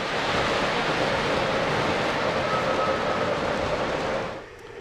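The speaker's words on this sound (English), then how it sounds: "Okay, I've had Brian turn the trains off for a minute so he can hear us better" A steady, loud rumble fills most of the clip as model trains run around a layout, with a faint whine riding on top before the sound drops away near the end.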